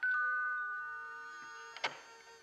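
A two-tone doorbell chimes in a French cartoon, starting with a long sustained ring that fades before a second sharper ding-dong strikes near the end, loud and close with no talk over it.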